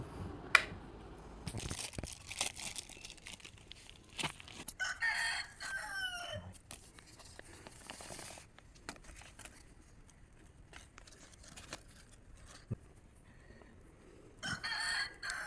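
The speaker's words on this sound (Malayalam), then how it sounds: "ഉച്ചയ്ക്ക് പന്ത്രണ്ട് മണിക്കാണ് കോഴിക്ക് നേരം വിളിച്ചത്" A rooster crows loudly, with shorter crow-like calls and clucks around it against a quiet outdoor background.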